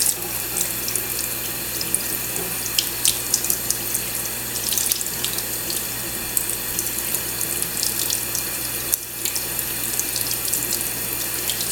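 Tap water runs steadily into a sink while a cockatiel is bathed, a continuous close splashing rush with small irregular splashes and faint bird chirps on top, no speech.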